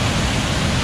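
Heavy rain has flooded a waterfall, and it pours as a dense, constant roar of water that stays loud and even throughout, with no talking.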